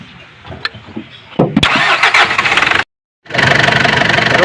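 A car engine cranks and catches into a loud running idle, then cuts out briefly and resumes, heard close up. The car had a crank-no-start fault being repaired.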